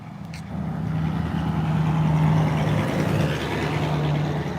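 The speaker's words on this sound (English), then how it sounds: "Make that a pickup truck." A pickup truck drives down a dark rainy street in Augusta, a low engine rumble with tire roar building and holding steady close by, with no talk.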